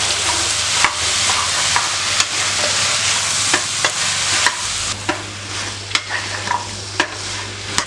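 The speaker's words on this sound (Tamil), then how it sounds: "ஒரு 2 நிமிஷத்துக்கு இந்த மாதிரி நல்லா வதக்கிக்குங்க" Mixed vegetables, among them carrot, broad beans, radish, snake gourd and beans, sauté in a pan with a loud, continuous sizzle and regular clacks of a stirring spoon close by.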